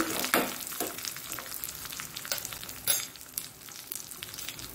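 Garlic frying in a pan for Mangalore-style chickpea sukka, a moderate sizzle with scattered sharp pops and crackles throughout, heard alone without talk.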